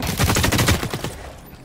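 Rapid automatic gunfire in The Cycle Frontier, a quick burst of about a dozen close, punchy shots that trails off into a fading echo.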